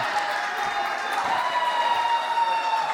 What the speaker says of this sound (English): Crowd loving Pretty Papi.